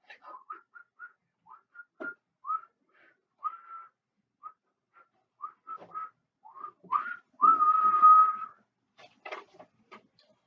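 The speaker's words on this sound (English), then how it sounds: "I hear a zookeeper whistling in my ear." A person whistles a series of short, bright notes with brief pauses, ending in a longer sustained tone and a few breathy chirps.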